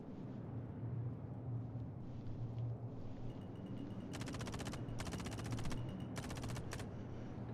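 Bursts of rapid automatic gunfire from non-player characters in the game Star Citizen, several distinct volleys in the second half over a constant low rumbling background, fairly distant and muted.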